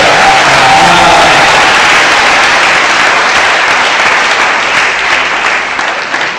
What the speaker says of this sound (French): Vous n'avez pas bien applaudi, vous n'êtes pas d'accord.